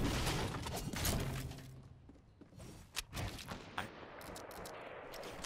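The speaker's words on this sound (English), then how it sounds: "I bet a gun shot's behind me." Sniper gunshots in Fortnite Season 4: several sharp cracks and bursts, some loud and close, others more distant, mixed with dull thuds and a short run of rapid shots near the end.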